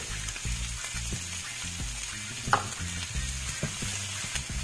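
Garlic sizzling in hot oil in a pan, with the smell of coconut close by: a steady close crackle under light stirring and scraping, with one sharp clink partway through and no voices.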